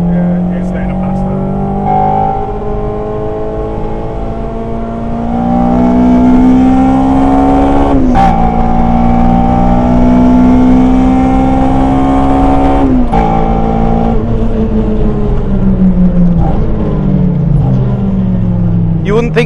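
Ginetta race car engine at Donington circuit, heard from on board as a loud steady drone that rises and falls through gear changes, with people talking over it.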